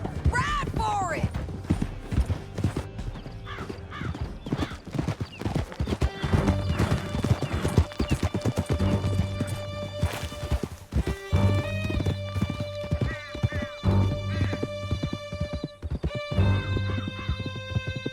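Horses gallop in Red Dead Redemption 2, a fast clip-clop of hooves with neighs and whinnies, close and loud under shouting voices and a steady musical score.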